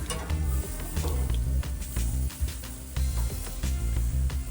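Shrimp sizzle on a grill in a steady, close hiss that runs throughout, with a low hum beneath.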